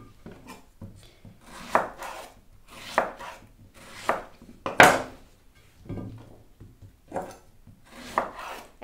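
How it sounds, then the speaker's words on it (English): Ripe tomatoes being cubed with a sharp knife on a board, about nine distinct chopping strokes spaced roughly a second apart, close and crisp with quiet gaps between, no voices. "So we are going now to cut these tomatoes in cubes"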